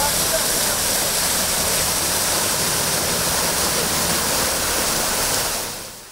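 Water gushes steadily from a fire hydrant broken by gravel trucks, spilling across an asphalt street in a loud, continuous roaring rush that fades slightly at the end.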